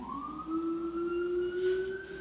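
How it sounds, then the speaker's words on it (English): Emergency vehicle sirens pass outside, a steady wailing tone that slowly rises in pitch and sweeps on for about two seconds at moderate distance, with no talk over it. "The sirens, you know."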